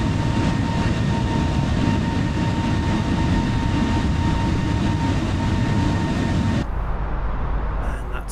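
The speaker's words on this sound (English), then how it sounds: "that sound of that plane outside is pretty damn cool" An airplane outside in the Microsoft Flight Simulator video game drones with a loud, steady engine roar and a faint whine, holding constant before dropping off abruptly near the end.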